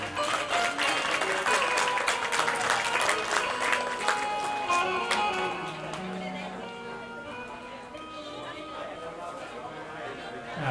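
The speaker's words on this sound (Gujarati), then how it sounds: "વધાવો તાળીઓથી વધાવો." At a Gujarati folk dayro gathering, an audience claps loudly to welcome guests, a dense burst that eases off midway into softer, scattered applause with crowd murmur.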